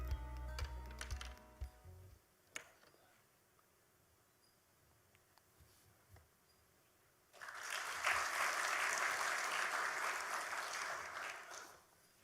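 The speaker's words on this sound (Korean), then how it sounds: "등단하실 때 큰 박수로 맞이해 주시면 고맙겠습니다." An audience at a Yonsei University Yongin Severance Hospital dedication ceremony breaks into sustained applause lasting about four seconds, after quiet rustling and scattered taps.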